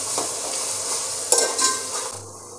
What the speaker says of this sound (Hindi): और हम लो टू मीडियम फ्लेम पे 1 से 2 मिनट तक भून लेते हैं